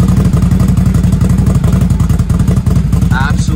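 A Can-Am Defender Max 6x6 UTV with a non-stock exhaust idles loud and close, a steady rapid throbbing rumble that sounds like a motorcycle, running alone for a few seconds.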